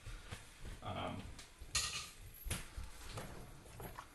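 Cooked pasta is folded into cheese sauce for mac and cheese: quiet, soft squelching and gentle utensil clinks against the pot, faint and close, with light background noise.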